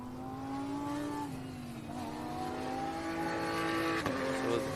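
Lamborghini Huracan Super Trofeo Evo race cars on a warm-up lap at a GT and TCR circuit race drone past, engines rising and shifting in pitch as they accelerate, at moderate distance with no talking over them.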